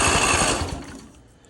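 A salt-flooded 22HP lawnmower engine catches after cranking, giving a loud, busy mechanical clatter that fades off within about a second and a half.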